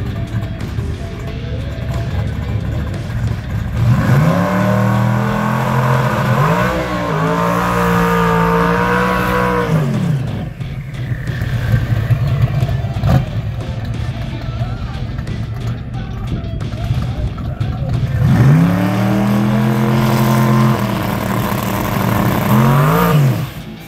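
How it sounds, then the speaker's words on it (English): Drag racing car at a dragstrip launching and accelerating hard, its engine roaring through rising revs in two long passes while the tires spin, heard from the sidelines with a steady crowd and ambient noise underneath. "That thing lit the tires up quickly."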